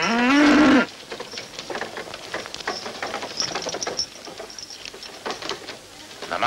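A single short cow moo sounds up close at the start, followed by soft rustling and faint clattering for the rest.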